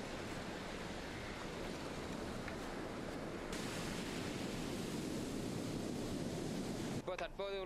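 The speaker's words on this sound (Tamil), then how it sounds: "கடலின் சீற்றம் அதிகரித்து காணப்படுகின்றது" Rough, stormy sea surf crashes and roars continuously along the shore amid wind gusting across the microphone, with a brief disturbance near the end.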